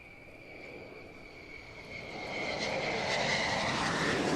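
A Tupolev Backfire bomber approaching at an air show, its broad jet roar swelling steadily louder over a few seconds with a high whining engine tone on top, no voices.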